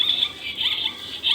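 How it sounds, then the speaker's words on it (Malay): A shrill, buzzing electronic animal call from a toy, sustained with a couple of swells and dips, fairly loud and close. "Oh, zebra bunyi macam tu."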